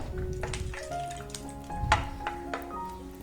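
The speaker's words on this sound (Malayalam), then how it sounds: "ഇനി മറ്റൊരു പാനിലേക്ക് 1 ടീസ്പൂൺ നെയ്യ് ഒഴിച്ചിട്ട് നെയ്യൊന്ന് ചൂടായി വരുമ്പോൾ അതിലേക്ക് കുറച്ച് കാഷ്യൂ നട്ട്സ് ഇട്ട് കൊടുക്കാം" Cashew nuts sizzling in hot ghee in a pan, giving a crackling sizzle with scattered sharp pops and the clatter of a spoon or nuts against the pan, close and fairly loud, without voices.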